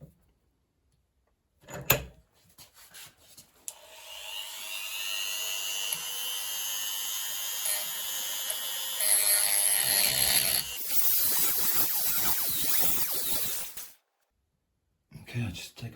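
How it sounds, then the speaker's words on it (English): A Dremel rotary tool with a grindstone grinding a metal multitool part, a high-pitched whine that spins up, runs steadily and grows harsher under load before stopping, with clicks and handling sounds around it. "So I put that in there and get busy with the Dremel and grindstone."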